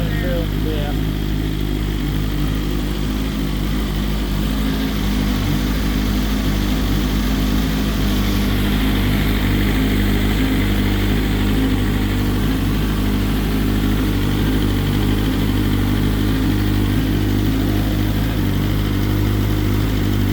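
A BMW S1000RR motorcycle engine, recently sprayed with WD-40 and smoking near the headlight, runs at a steady idle, a continuous close, loud rumble with no clear revving throughout.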